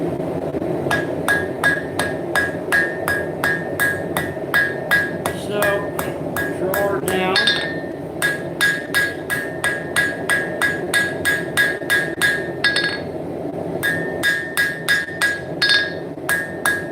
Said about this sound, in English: I want to go to my Trent tie hammer right here, and I'm going to start reprofiling that